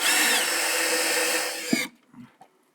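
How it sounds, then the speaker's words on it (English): A power drill runs steadily at high speed while boring screw holes in a strip for a Ram Promaster 118 WB camper van build. It whines loudly for nearly two seconds, stops abruptly, and is followed by a few faint clunks. "I'm just drilling the amount of holes per piece"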